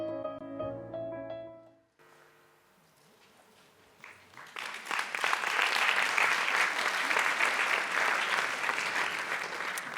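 A theatre audience at a cultural season presentation bursts into applause after a short musical passage and a brief lull, the clapping swelling and holding steady to the end.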